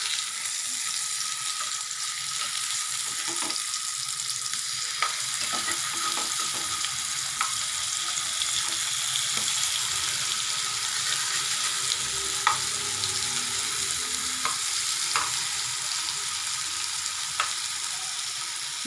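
Diced elephant foot yam fries in hot oil in a pan with a steady, close sizzle and crackle, while a spoon stirs it and scrapes the pan now and then, and no one speaks.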